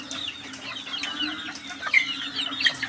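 Chickens cluck and murmur in a flooded yard after heavy early-morning rain, steady low chatter of several birds close by with a few sharper calls, no talking.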